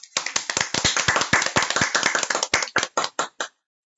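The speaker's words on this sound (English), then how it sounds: "Let's give yourselves a big round of applause." Audience at a children's story-writing competition ceremony clapping, a burst of sharp hand claps that thins out into a few scattered last claps before stopping.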